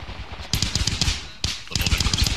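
Two bursts of rapid automatic gunfire from a Vietnam-era combat game, heard through an AN/PRC-25 field radio, each a rattling string of crisp shots with a short pause between them.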